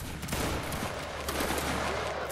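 Massed infantry musket volley in a Napoleonic-era video game battle, Army of Spain against Highlanders: a dense, continuous crackle of gunfire fills the whole stretch, loud and sustained with no speech.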